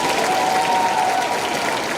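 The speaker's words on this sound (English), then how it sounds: "Let's give Miss Anderson one final cheer goodbye and thank her for her time in the Okemos Orchestra" A concert crowd at a school spring orchestra performance applauds and cheers, a dense, steady wash of clapping that holds at full strength throughout.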